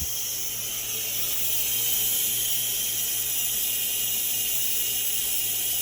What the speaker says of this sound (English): Alright, steam has released.